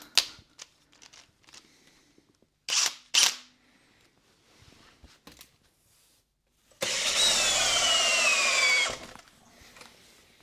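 A cordless drill drives into wood, with several short clicks and taps before one sustained loud whirring run of about two seconds that winds down, close with no talk.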